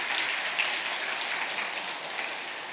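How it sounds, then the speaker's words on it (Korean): A church congregation at a Sunday service applauds steadily to welcome visitors, a continuous wash of many hands clapping at moderate loudness that fades slightly toward the end. "일어서시면 환영의 박수를 드리겠습니다."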